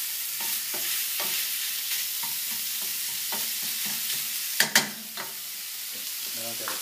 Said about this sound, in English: And we cook this until the meat is nicely browned.